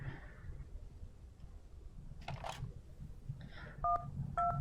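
Dialing 911 on a telephone at a gas station in a video game. A few short, distinct keypad tones sound close, after quieter clicks and rustles from handling the phone.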